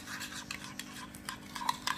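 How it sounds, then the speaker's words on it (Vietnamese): Tamarind sauce seasoned with salt and sugar being stirred in a pan, soft scraping and light clinking strokes at an uneven rhythm, quiet and close with no talk. "mình khuấy đều cho cái nước sốt nó sệt lại, nó tan đều gia vị"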